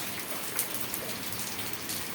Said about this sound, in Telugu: చాలా వర్షం పడుతుంది ఇందాక చాలా